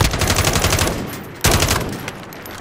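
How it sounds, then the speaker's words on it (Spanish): Call of Duty: Modern Warfare gunfire, heard as loud, close bursts of rapid automatic shots in two volleys separated by a brief pause. "Son tiros, son tiros."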